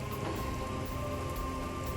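Steady rain pours down in the video game Divinity: Original Sin, a dense continuous hiss of drops falling on surfaces, filling the whole stretch without any voices.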